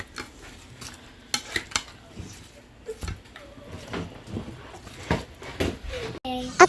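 Chicken being mixed by hand with marinade ingredients in a bowl, soft wet squelches and occasional clinks at close range, under intermittent talking.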